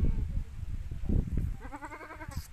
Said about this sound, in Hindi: ये बकरी की बच्ची।